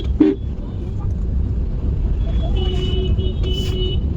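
Hyderabad road traffic jam with autos stopping, a steady low rumble of idling and creeping vehicles close around, a brief horn-like tone and faint engine whine over it, with a voice speaking briefly at the start.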